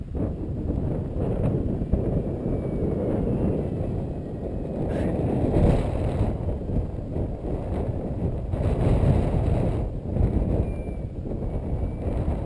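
Gusty 20 knot wind at an RC plane flying field, a loud, constant low rumble of wind buffeting the microphone that swells and eases in waves, with a faint high motor whine from the plane above.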